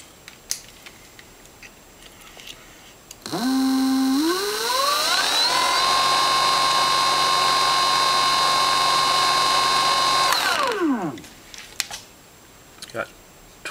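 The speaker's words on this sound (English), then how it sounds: "So let's spin her up on" A Transmagnetics 3kW electric motor on an Infineon 12-FET controller at about 38.77 volts whines up steadily, its rising tone climbing then holding loud and even for several seconds before winding down, close by and alone.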